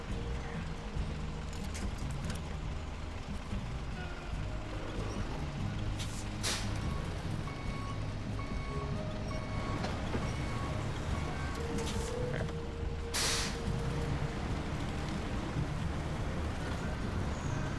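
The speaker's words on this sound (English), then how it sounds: "Let me get this truck unstuck" A heavy truck engine drones and strains in the off-road game SnowRunner while the truck tries to get unstuck. The rumble is steady and continuous, with a few sharp hissing bursts over it.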